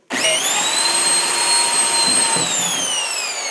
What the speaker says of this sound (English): That's why we use big drills.